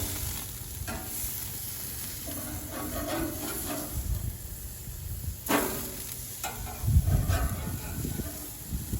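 Pineapple slices sizzle on a hot grill as they are flipped, a steady broadband frying hiss with scraping and clatter of turning throughout, swelling louder near the end.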